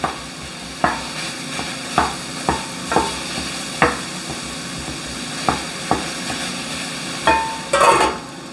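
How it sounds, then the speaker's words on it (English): Ground beef fries in a pan while a spoon stirs it, about a dozen sharp scraping strokes at irregular intervals over a constant sizzle, with a louder flurry near the end. "As this ground beef is starting to get hot, I'm gonna give it a couple of stirs"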